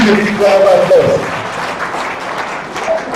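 Applause from an audience at the Kaduna State disability summit 2025 welcoming a guest, a sustained dense patter of clapping with a voice heard briefly over it.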